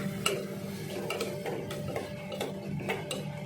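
Chopped onion is stirred while it fries in a pan, with a quiet background sizzle under repeated light scrapes and clinks of a utensil against the metal at irregular intervals.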